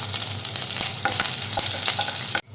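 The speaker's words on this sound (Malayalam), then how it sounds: "ഇതും ഒന്ന് ചെറുതയിലിട്ടിട്ട് വറുത്തെടുക്കാം" Sliced green chillies fry in coconut oil with a loud, dense, continuous sizzle and a few small pops, close up, cutting off abruptly at the end.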